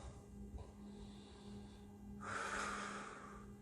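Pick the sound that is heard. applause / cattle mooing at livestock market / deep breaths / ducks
deep breaths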